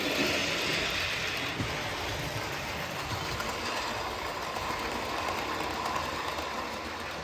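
A model railway train runs along a layout, producing a faint, steady rolling rumble with soft clicking wheel noise and no speech.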